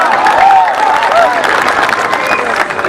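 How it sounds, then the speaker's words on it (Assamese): An audience claps and cheers at a live Assamese music performance, a dense, steady wash of applause filling the full three seconds, with a few voices calling out over the crowd. "হাত চাপৰিটা দিবনে"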